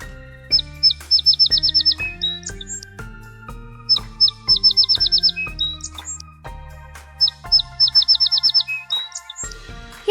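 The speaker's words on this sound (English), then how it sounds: "Sparrows live near our homes and sing sweet songs." A small brown sparrow sings alone in repeated bursts of bright, rapid trills and chirps, three clear phrases separated by short pauses, close and loud.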